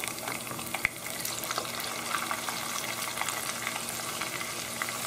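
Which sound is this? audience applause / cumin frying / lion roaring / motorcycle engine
cumin frying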